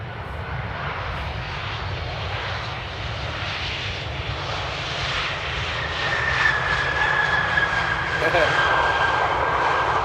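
A steady roar of jet airliner engines fills the air at Amsterdam Airport, growing slightly louder as the plane passes low overhead just before touchdown, with a high whine rising partway through.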